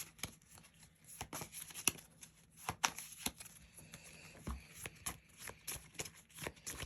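Playing cards from a dungeon deck shuffled by hand, producing repeated soft snaps and riffling flicks in an uneven rhythm close by, quiet and without voices.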